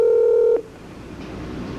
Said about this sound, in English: I dial *60